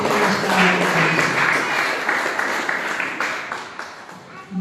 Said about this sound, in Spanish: Fuerte las palmas para Juan, pues en esta oportunidad nos trae.